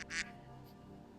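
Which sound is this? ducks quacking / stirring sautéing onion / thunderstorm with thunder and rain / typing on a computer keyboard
ducks quacking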